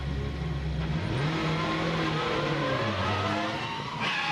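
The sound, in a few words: multi-car pile-up crash in Macau touring car race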